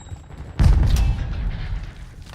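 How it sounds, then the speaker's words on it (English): Heavy explosion from a Semtex grenade in Call of Duty MW3 bursts in after a quiet half second, with rumbling crackle and scattered gunfire trailing off over the next two seconds. "Throwing Semtex!"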